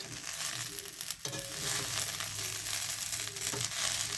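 Moringa (drumstick) leaves stir-fried in a pan make a continuous crackling sizzle, with rustling scrapes and stirring strokes breaking through near and fairly loud.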